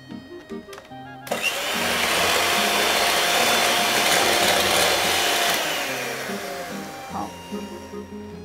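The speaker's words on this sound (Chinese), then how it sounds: "我们这个时候要用到电动的打蛋器把它搅拌均匀" Electric hand mixer whirring steadily as it beats butter and egg for cranberry cookie dough, a sustained loud buzzing motor that starts abruptly after a few quiet clicks and fades near the end.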